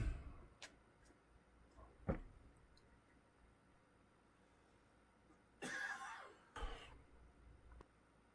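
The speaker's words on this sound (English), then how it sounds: "I was trying not to cough in the microphone" Two harsh, close coughs burst into the microphone in quick succession midway through, following a few sharp clicks and a throat-clearing rasp against a quiet indoor background during a live stream.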